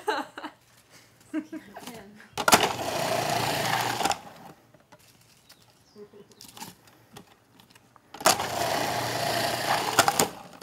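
Machine shredding cabbage for sauerkraut: two loud, close mechanical whirring bursts of about two seconds each, separated by quieter stretches with talking.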